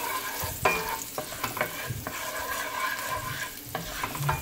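Curry pineapple shrimp being stirred in a hot pan, with a soft steady sizzle and repeated scraping strokes of a spoon at close range, no voices.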